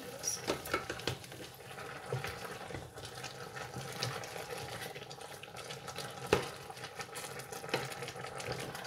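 Goat meat curry with ginger being stirred in a pot, giving soft scraping and wet sloshing with occasional light clinks of a spoon against metal over a steady background sizzle, moderately close.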